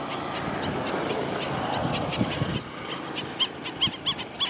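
Common gallinule calling at a wetland during birdwatching, a series of loud, abrupt clucking notes near the end of the clip over a busy background of water and ambient noise.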